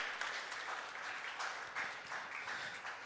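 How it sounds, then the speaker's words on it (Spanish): Church congregation applauding the Lord during a Spanish-language sermon, a continuous wash of many hands clapping at a distance, faint and even throughout. "Dele un aplauso al Señor si usted lo cree."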